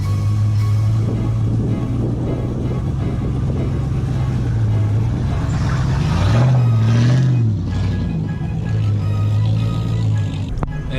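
A cammed GMC Sierra 5.3 two-wheel-drive pickup struggles in deep snow, its loud engine revving and surging unevenly as the tires spin, with a rising rev near the middle before settling back to a steady drone.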